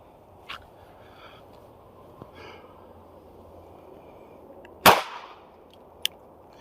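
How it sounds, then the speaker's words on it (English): A single sharp handgun shot cracks out at an indoor training target, loud and abrupt against a quiet background, with a few faint clicks of handling before and a small tap after. "put that shot right dead center in the middle of that circle"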